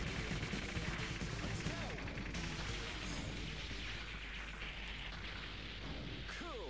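Dense stream of shots and small explosions from the Batrider arcade shoot 'em up, a constant busy chatter of firing and effects at moderate level with a few sweeping tones.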